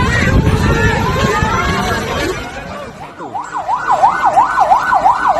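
Crowd babble and commotion give way to a loud wailing ambulance siren in Brebes, Indonesia, rising and falling in rapid repeating cycles as it approaches.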